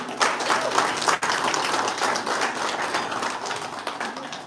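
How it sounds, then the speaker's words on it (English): Dense, steady applause from an audience at the 2023 Liberal Democrats campaign launch event in Luton, filling the whole stretch at an even, moderate level with no break. "I think they deserve a round of applause."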